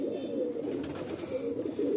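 A young kalsira pigeon coos close by in a low, soft, throaty warble that rolls on steadily without pause.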